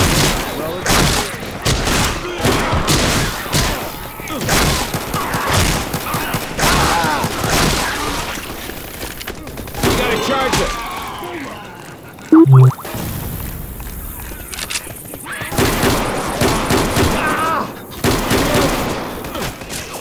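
Rapid gunfire from the Left 4 Dead 2 zombie shooter in Versus mode on the Dark Carnival campaign, dense volleys and single shots throughout, loud in the foreground, with occasional voices speaking amid the shooting.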